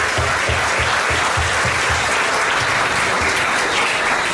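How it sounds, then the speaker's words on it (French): Loud, dense audience applause at the inauguration of a production studio in Guadeloupe, a continuous wash of clapping with a rhythmic low thump pulsing underneath in the first half. "Mesdames, messieurs, à nouveau des applaudissements pour Bertin"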